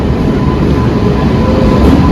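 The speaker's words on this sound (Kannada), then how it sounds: "ಚನ್ನಪಟ್ಟಣ ಪ್ಯಾಸೆಂಜರ್ ಟ್ರೈನ್ ಇವಾಗ ಬರ್ತಾ ಇದೆ." Channapatna passenger train pulling into a station platform, a continuous low rumble and rolling drone close by, with no talk.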